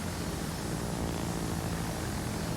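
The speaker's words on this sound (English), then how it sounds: "let's use our torpedo bombers" Propeller torpedo bombers drone steadily in World of Warships, a continuous, even engine hum with a low tonal buzz, moderately loud and unbroken, with no talking.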